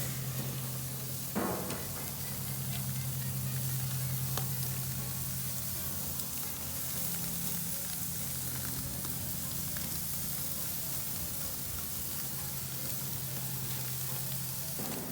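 Skirt steak sizzles on a hot grill in a steady, loud, continuous crackle that holds for the whole stretch with no one speaking.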